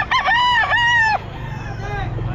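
Roosters crowing at the Bocaue pet market in the Philippines, one loud close crow that rises and then holds, followed by fainter crows over a low market din.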